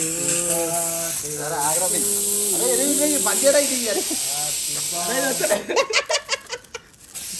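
Hissing fountain firecrackers go off at a birthday party, a steady spray of hiss under singing and chatter, ending in a string of quick sharp crackles.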